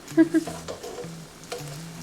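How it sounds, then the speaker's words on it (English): Hot oil sizzles steadily as chicken hits the pan, with a couple of brief clinks and soft kitchen clatter over the frying hiss. "That's a nice sizzle."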